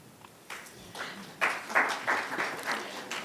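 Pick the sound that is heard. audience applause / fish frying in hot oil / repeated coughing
audience applause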